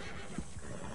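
A horse in the video game Red Dead Online gives a short, faint neigh, one brief whinny over steady game background noise.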